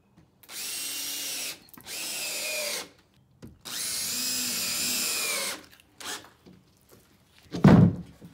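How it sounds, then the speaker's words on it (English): A cordless power drill drives screws to fasten a 6-foot 2x4 strip onto plywood for a wheelchair ramp, four bursts of whirring near the mic separated by pauses, ending with a short burst and a knock of wood. "we're about to screw on the first 6-foot strip of 2x4 to sturdy up the plywood"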